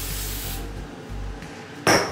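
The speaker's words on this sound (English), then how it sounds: "What I like to do is I hold it up and I spray." Hairspray is sprayed onto a wig in a long, close, steady hiss, followed by a second short, sharp burst near the end.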